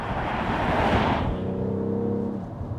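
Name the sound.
BMW X3 M40i engine running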